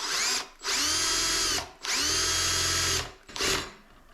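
Cordless drill boring through thin material with a regular twist drill, three loud close bursts of high-pitched whining with a low motor rumble, each lasting about a second, separated by short pauses.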